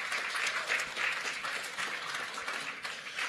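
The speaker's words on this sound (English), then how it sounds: "Can we have one more round of applause for our amazing panel" A seated audience applauds a panel at a museum event, a short burst of dense, steady clapping that fills the room without any voices.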